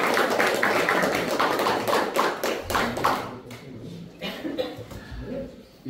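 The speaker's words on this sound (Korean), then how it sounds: "하나님께 영광의 박수 다시." A church congregation at a prayer meeting gives a burst of steady applause, loud and close at first and then fading into scattered claps, light chatter and murmurs.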